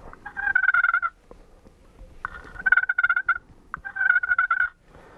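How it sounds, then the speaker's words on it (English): Wild turkey giving a soft, contented feeding purr: three rolling, trilled bursts of about a second each, separated by short pauses, close and clear with no talking. "a contented call, kind of a purr"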